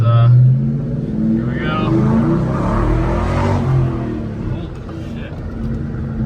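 Ford Mustang Cobra engine revving hard and accelerating from inside the car on its first drive, a loud rising roar that swells through the middle and then eases off, with excited speech over it at the start.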